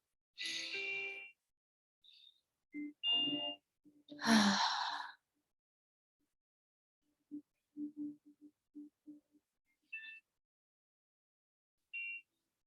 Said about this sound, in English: one more deep inhale